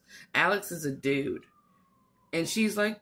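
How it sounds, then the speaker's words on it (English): A faint, steady siren tone drifts in from a distance during a pause in a person's speech, and talking resumes over it. "I don't know if y'all can hear that siren in the background"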